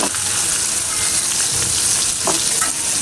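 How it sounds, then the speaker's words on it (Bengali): Pabda fish frying lightly in a hot pan for a Bengali-style curry, giving a loud, steady, close sizzle that continues without a break. "এটা একটু ভেজে তারপরে বাকি সব কিছু দিয়ে দিব।"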